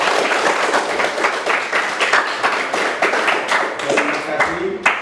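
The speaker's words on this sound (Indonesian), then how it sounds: "tepuk tangan semua." A school class claps hands together in a lesson, a run of sharp, quick, uneven claps from many pupils close by, with some voices mixed in toward the end.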